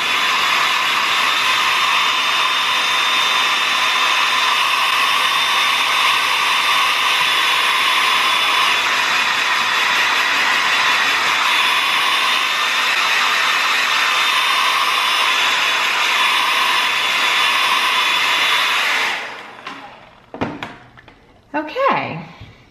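A hair dryer drying a Shih Tzu's coat blows as a loud, steady close-up whoosh for nearly twenty seconds, then cuts off, leaving brief handling knocks and rustles.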